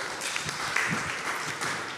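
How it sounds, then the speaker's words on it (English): An audience at a crowded NFC Summit event day claps in a dense, continuous wash of applause, moderately loud and steady throughout. "please give them a round of applause"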